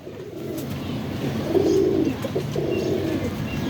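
Ferozpuri pigeons cooing nearby, soft repeated throaty coos rising and falling over a low murmur of other birds, with no speech.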